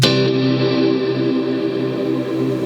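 A sustained electric guitar tone through a Quad Cortex processor swells and hangs, washed in a roughly six-second delay and reverb, its chord ringing evenly without fading.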